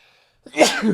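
A single sharp sneeze bursts out close and loud after a moment of near silence.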